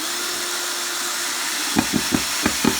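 A Cerfur cordless screwdriver on its first speed runs with a steady, close motor whine, then a run of sharp clicks and knocks as it drives a screw home over its last second.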